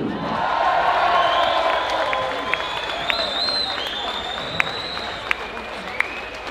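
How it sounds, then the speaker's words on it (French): A crowd at an official village-festival ceremony breaks into loud applause and cheering for volunteers, with sustained clapping, whoops and whistles, then the ovation thins slightly. "Je vous demande un tonnerre d'applaudissements pour tous les bénévoles."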